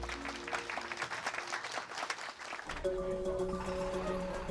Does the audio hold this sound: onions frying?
no